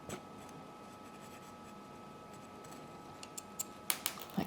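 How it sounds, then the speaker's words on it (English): Scissors snipping loose thread on a soft circuit sewing sample, a few sharp close clicks near the end after a quiet stretch of low room noise, with no speech. "I'm going to cut off anything that's loose."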